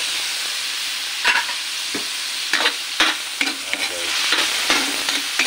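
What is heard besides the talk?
chicken frying and being stirred in a pan with garlic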